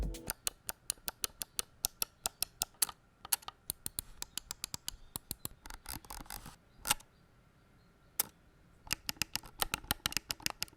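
A Razer Basilisk V3 gaming mouse with optical switches clicks rapidly and sharply, close up, in irregular bursts with short pauses between them and no talking.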